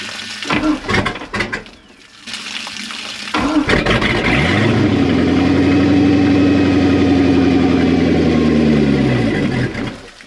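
The starboard engine of a 1992 Sea Ray 380 Sun Sport boat cranks and catches, then settles into a steady, loud, close rumbling idle, after splashing water and clatter at the start.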